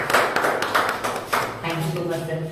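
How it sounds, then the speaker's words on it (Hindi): Audience applause welcoming a student named Rahul onto the stage at a classroom English tense lesson, a burst of clapping with scattered taps that fades after a second or two, with a voice speaking near the end. "तो जोरदार तालियों के साथ स्वागत कीजिए"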